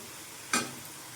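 Raw plantain pepper fry cooks uncovered in an open pan, giving one short, quiet burst of sizzling as it is stirred, then fading back into a soft background hiss.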